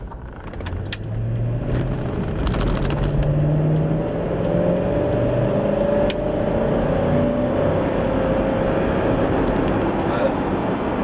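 A Mercedes ML430 V8 holds a steady engine drone with faint tonal whine while driving, cutting out to stay below 75, with brief clicks and someone talking over it throughout.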